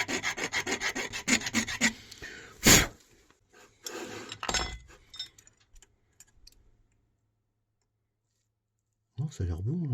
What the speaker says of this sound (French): Je vais rattraper ça avec une lime